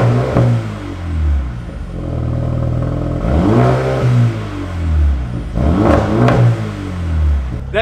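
Mercedes A35 AMG with a Milltek straight-pipe exhaust from the catalytic converter back, revving loudly in several deep, rasping bursts that rise and fall close by.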